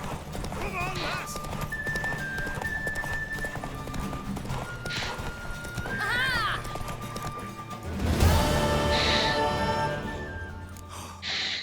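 A horse's hooves clip-clop at a gallop during a race in the video game The Witcher 3: Wild Hunt, with whinnies and snorts rising over game music and voices; a louder burst of activity comes near the end.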